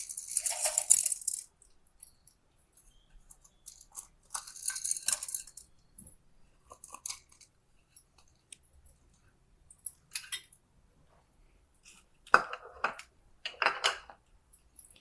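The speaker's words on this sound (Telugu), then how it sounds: "ఇప్పుడు ఆవాలు బాగా చిట్పట్లాడిందండి" Mustard seeds spluttering in hot oil along with cumin and urad and chana dal while tempering for temple-style tamarind rice, heard as scattered sharp pops and crackles in irregular bursts with quiet gaps between them.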